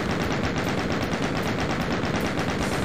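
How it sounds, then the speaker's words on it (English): Rapid automatic gunfire from a video game, a dense, steady stream of repeated shots running without pause at constant loudness, with no talk over it. "That is several bullets."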